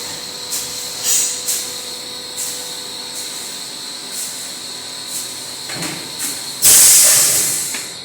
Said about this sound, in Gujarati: આ મશીનમાંથી બોટલો પડે છે.